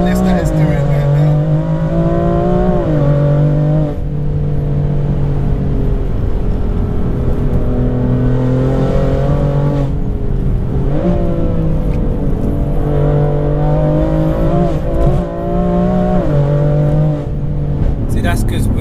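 A BMW 335d diesel engine revs as the throttle is modulated, its pitch rising and falling in repeated surges, loud and close, with people talking over it.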